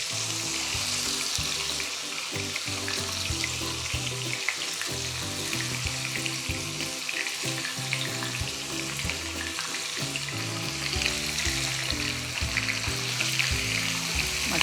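Onions and mutton fry in a pan for a red chilli mutton masala, a steady loud sizzle with repeated scraping stirs continuing throughout and no talk.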